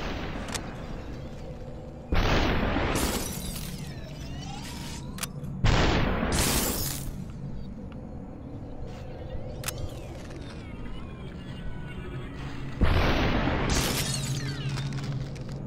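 Guns and enemies shattering in the video game Superhot, heard as several loud bursts of crashing, glassy breakage separated by quieter stretches of game sound.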